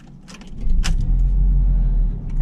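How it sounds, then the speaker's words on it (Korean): A Honda CR-Z hybrid sports car engine starts up with a smooth, low hum that swells and settles into a steady idle, with a brief jangle of keys near the start. "스르륵 걸리는데요? 시동 걸리는 느낌이 완전히 다르지 않습니까?"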